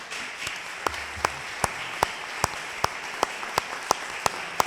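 Sparse applause at a lecture session, a few distinct, evenly spaced hand claps ringing out over a quiet room with light background clapping.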